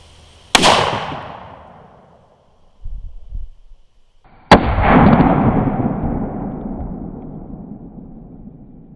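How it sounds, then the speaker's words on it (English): Colt 1847 Walker black powder revolver firing a conical bullet over 50 grains of powder, two sharp loud outdoor booms a few seconds apart, each with a long rumbling decay, plus a brief clunk between them. "I shot it and it turned the target to the right here"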